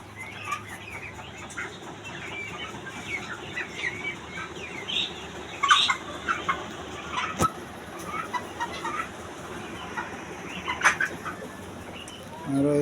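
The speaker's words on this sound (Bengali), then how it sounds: "এই হচ্ছে টাইগার মুরগির খামার" Many chickens at a tiger chicken farm in Pabna cluck and squawk continuously, with scattered louder calls rising over a busy, steady flock murmur.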